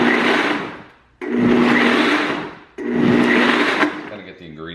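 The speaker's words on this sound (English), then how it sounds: "So I just use the pulse button here on the BlendTech." A Blendtec blender pulses a green smoothie in three loud whirring bursts, each about a second and a half long with a short gap between them, and the motor winds down at the end.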